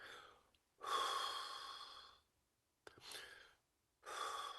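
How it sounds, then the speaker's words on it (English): Slow human breathing with the emphasis on long exhalations: three drawn-out breaths alone in a quiet room, each a soft airy rush of a second or more, separated by silent pauses. "When you breathe, focus on the out breath."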